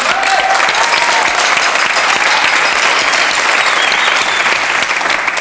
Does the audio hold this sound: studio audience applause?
yes